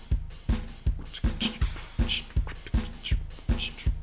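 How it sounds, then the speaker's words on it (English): A programmed drum part from the Studio Drummer Garage Kit in Kontakt, with a steady driving kick and snare groove and washy cymbals, played at a quick even pulse with no voices. "I was using the Garage Kit and Contact Studio Drummer"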